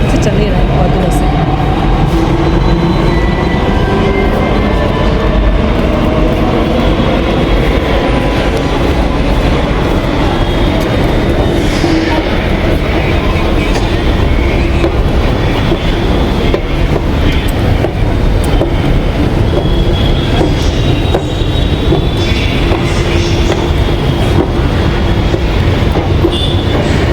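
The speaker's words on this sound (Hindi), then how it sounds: "दरवाज़ा बंद हो गया पहुँचते मेरी मेट्रो, बस सामने से मेट्रो चली गई।" Loud, close metro train rolling away with rumbling wheels, rhythmic clatter and high squealing tones, continuous throughout.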